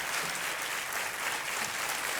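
Studio audience on the Indian quiz show KBC applauding, a dense, even wash of many hands clapping at steady volume for a couple of seconds.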